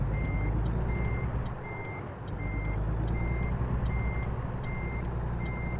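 A truck in American Truck Simulator sounds its reversing alarm as a steady series of evenly spaced beeps. The beeps repeat over a constant loud rumble of the engine.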